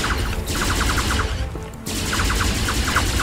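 Submachine gun fire in a single-player shooter, with rapid automatic bursts that drop off to near silence for a moment before the steady rattle starts again, loud and close.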